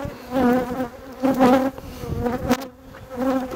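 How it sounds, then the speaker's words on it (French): Dense, steady droning hum of many honey bees buzzing close by over a hive brood frame, swelling and fading slightly in loudness, with no voices. "Je me dépêche pour le couvain, mais il est couvert par les abeilles"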